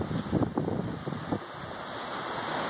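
Heavy wind gusts from Hurricane Matthew near Orlando buffet the microphone in loud, rough bursts of roaring rumble, then ease into a steadier rushing blow, with no voices.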